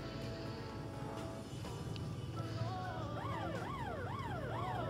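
A wailing video game siren in School Days rises and falls in repeated sweeps over a steady background hum, starting partway through and growing clearer.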